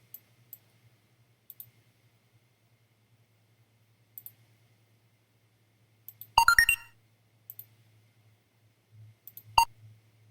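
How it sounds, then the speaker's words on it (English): A few short, sharp electronic beeps and clicks, scattered sparsely over quiet, with a tight cluster of tones in the middle and one more near the end. "Yeah, I got some beeps here."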